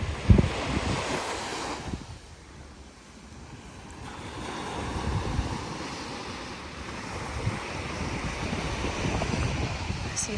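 Ocean surf rolls and washes onto the beach near the 1715 Spanish Fleet wreck site at Sebastian, heard as a steady roar that swells and eases, with gusts of wind buffeting the microphone.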